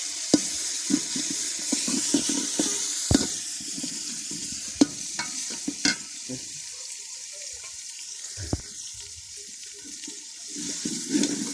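Browned onions, tomato and green chili paste frying in a pot for vegetable pulao, a steady sizzle with irregular spoon scrapes and knocks against the metal, a quieter stretch, then more stirring.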